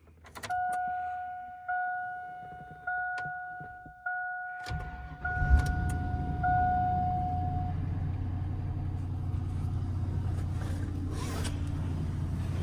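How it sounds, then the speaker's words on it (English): A 2000 Chevy pickup truck: a few door or seatbelt chimes and clicks, then the engine fires and settles into a steady low rumble as it drives, with no talking. "this is my 2000 Chevy pickup"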